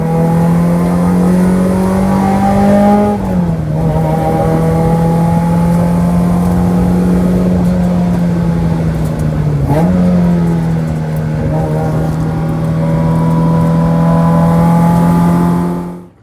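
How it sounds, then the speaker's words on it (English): A Mazda Miata race car, rebuilt after a crash, holds a loud, steady engine drone on a track shakedown, with two brief dips in pitch as it shifts or lifts before pulling on at high revs. "we just finished doing some laps in the Miata here"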